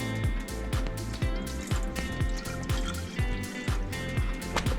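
Water poured onto dried sourdough starter in a container to rehydrate it, a run of gurgling, glugging splashes with repeated dripping pulses, close and fairly loud, heard alone.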